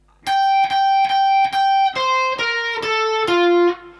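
Guitar with a distorted, effects-laden tone plays the last bar of a meme tune: four even repeated picked notes, then a short run of notes stepping downward, ending on a held low note, close and loud.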